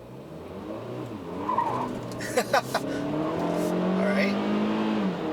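A front-wheel-drive 2017 Kia Soul Turbo accelerates hard from inside the cabin, its engine note climbing steadily in pitch with a brief tire chirp as it finds traction. A person speaks briefly over it.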